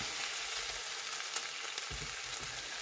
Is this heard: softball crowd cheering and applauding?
no